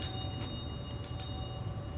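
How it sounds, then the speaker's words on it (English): Bell tolling as a stage sound effect during an outdoor performance of Macbeth on a lawn, a steady sustained ringing tone heard alone at moderate distance with no talk. "The bell invites me."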